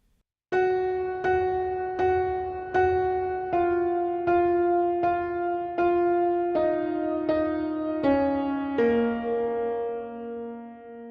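A keyboard plays the slow lead line from the intro of a song, single sustained notes, about ten in a steady rhythm, stepping gradually downward in pitch, with no talking.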